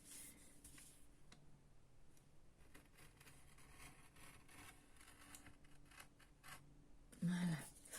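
Scissors snip slowly through paper while cutting a window for a handmade album, a few faint, close, scattered cuts in a quiet room, ending with a louder rustle of handled paper.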